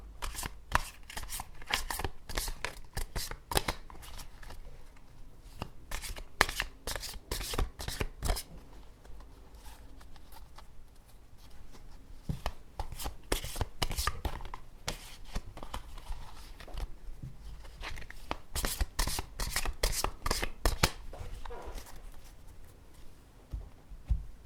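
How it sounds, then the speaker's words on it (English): A deck of tarot cards being shuffled over and over, with rapid riffling and snapping bursts coming in uneven waves, close and fairly loud. "I just need to give the deck a thorough and purifying shuffle."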